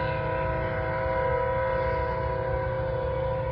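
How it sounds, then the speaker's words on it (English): A loud, steady rumble with sustained tonal layers from a Norfolk Southern train rolling past nearby at night on the Charlotte District, continuous throughout with no voices. "First train of the night."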